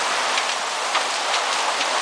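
Hailstones and rain beat down hard in a storm in Sertãozinho, Brazil, a thick, constant hiss of impacts with occasional sharper strikes, close and loud with no voices.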